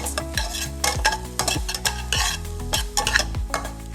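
Onions and capsicum frying in a pan for creamy pasta, with a steady sizzle broken by repeated scraping stirs of a spoon roughly every half second, close and fairly loud.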